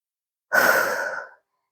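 A single strong, breathy exhale during a mat-based core exercise, close and loud, lasting under a second and tapering off, with no talking.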